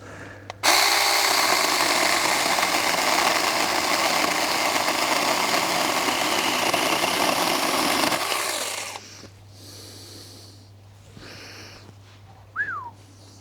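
A cheap budget chainsaw engine roars loud and steady for about eight seconds, then cuts out, leaving quieter clatter and a brief whistle-like tone.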